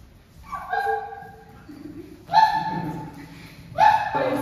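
Puppies yip, bark and whimper in short bursts, three clusters of high-pitched cries close by with faint background murmur between them.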